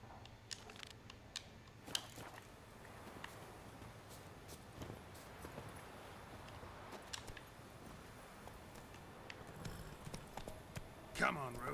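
The horse Roach's hooves clop steadily in The Witcher 3, fairly quiet under ambient sound, with voices speaking at times.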